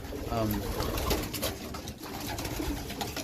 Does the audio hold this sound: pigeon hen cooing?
yes